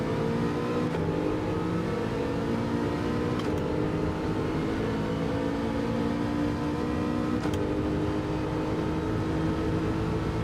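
Race cars run in a sim racing lobby in Assetto Corsa Competizione or Gran Turismo 7, a steady droning engine note held at high revs throughout with a few brief clicks, close and loud, with no talk.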